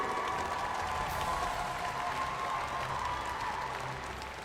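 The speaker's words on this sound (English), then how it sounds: "let's give a big round of applause" Sustained applause from a sizable crowd at the M5 World Championship esports event knockout stage, a steady wash of clapping that stays loud and fades slightly at the end.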